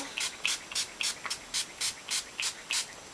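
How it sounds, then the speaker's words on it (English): About ten quick hissing bursts from a hairspray can, evenly paced, close and moderately loud, with brief pauses between puffs. "but I'm just going to use this hairspray."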